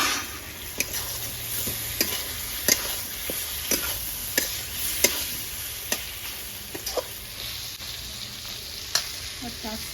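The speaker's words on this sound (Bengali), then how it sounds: "বন্ধুরা এবারে আমি এখানে দিয়ে দেবো টমাটো, 3টে টমাটো কেটে রেখেছি মিডিয়াম সাইজে।" Chopped tomatoes sizzle and fry in a spiced masala for a pabda fish curry with thankuni leaves, with a steady crackle broken by repeated sharp clacks of a spoon stirring the pan.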